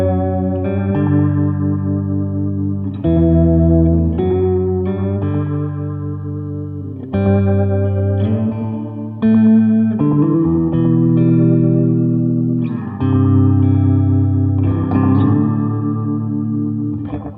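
A Subdecay Anamnesis Echo modulated delay pedal on a pedalboard colours loud electric guitar chords and notes with wavering, repeating echoes that trail off between phrases, with no voices.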